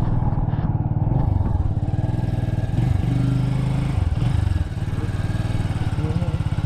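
A motorcycle engine idles and runs roughly and loudly close by during heavy rain. It keeps up a throbbing putter with small shifts in revs, and a voice is faintly heard in the background.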